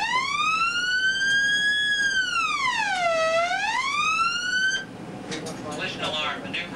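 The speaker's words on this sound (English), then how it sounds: "Collision alarm, machinery space." Aboard the Los Angeles-class submarine USS Norfolk, a loud collision alarm tone warbles up, dips low and climbs again in one long electronic sweep, then stops abruptly, leaving brief shipboard voices and noise.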